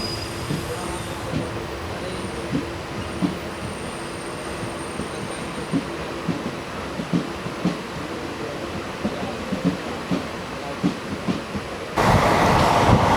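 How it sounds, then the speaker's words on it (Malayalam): The Nilambur–Palakkad passenger train rumbles steadily along the rails, with a rhythmic wheel clatter over joints and a louder rush of wind near the end, heard from on board with no talking. "ഈ നമ്മുടെ നിലമ്പൂർ പാലക്കാട് പാസഞ്ചർ ഇപ്പോൾ കേരള എക്സ്പ്രസ്സിന് മുന്നിൽ കിടന്ന് ഓടും"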